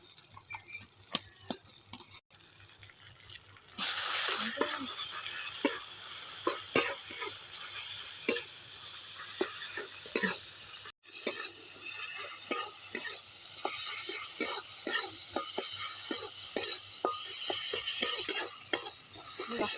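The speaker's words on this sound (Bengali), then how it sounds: "মশলাটা কষানো হয়ে গেছে" Okra and spices being stirred and fried in a pan, a steady sizzle with repeated scraping strokes of a utensil throughout, close and fairly loud, with no talking.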